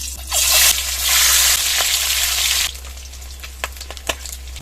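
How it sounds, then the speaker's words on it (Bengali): Eggs hit hot mustard oil in a wok with a loud burst of sizzling that lasts a few seconds, then dies down to softer crackles and pops. "দিয়ে দেবো সরষের তেল, অল্প একটু লবণ দিয়ে দেবো। ডিমগুলো দিয়ে ভেজে নেব।"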